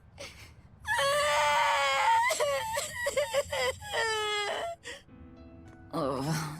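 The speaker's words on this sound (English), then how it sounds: "That's not a cry, that's a scream." A child character in the video game Tales of Berseria screams and wails in long, loud, high-pitched bursts broken by short gasps, with a brief quieter pause before another cry.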